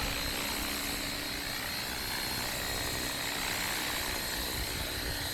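A Blade Fusion 360 3S RC helicopter flies in close and lands, its rotor and motor giving a steady, loud whirring drone that holds evenly throughout with no talk.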